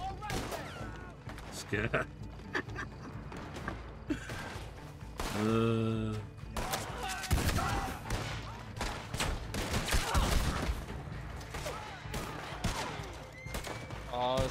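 Gunfire erupts in a Red Dead Online shootout, bursts of shots and heavy thumps rolling through a dense, busy mix while someone talks excitedly over the fighting.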